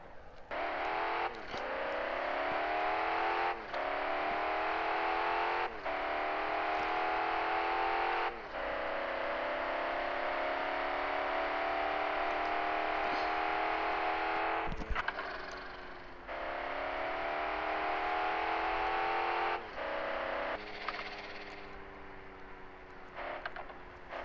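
A BMW E36 320i with a manual six-speed gearbox and 220 hp Stage 1 tune, its engine droning and climbing in pitch through repeated pulls, each broken by short gaps at the gear changes, loud and close throughout.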